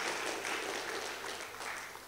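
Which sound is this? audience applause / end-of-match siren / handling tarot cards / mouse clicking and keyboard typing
audience applause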